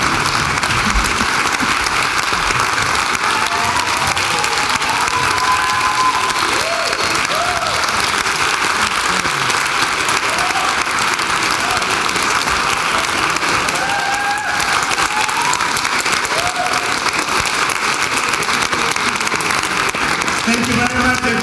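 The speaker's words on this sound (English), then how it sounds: "Big round of applause for all of our actors today." An audience at a book launch applauds opera singers on stage, loud steady clapping with scattered cheers and a few voices over more than twenty seconds.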